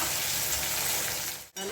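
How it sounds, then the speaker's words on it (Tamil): Tomatoes and onions frying in a pan for a spicy fish curry give a steady close sizzle and crackle that runs throughout, broken by a brief dip near the end. "அதே போல் தக்காளி வந்து நல்லா ஃப்ரை ஆகணும்."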